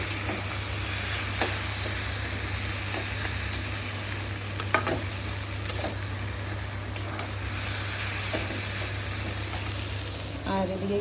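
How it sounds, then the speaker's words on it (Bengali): Cooked greens stirred with ground spices and ghee in a pan, a steady soft sizzle under a constant low hum, with occasional light scrapes of the spoon. "এই যে গুঁড়ো মশলাটা দিয়ে একটু নেড়ে চেড়ে নামিয়ে দেবো।"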